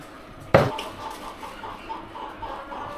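Chickens cluck softly and intermittently at a market near a ferry ghat, following one sharp bang, with low murmuring in the background.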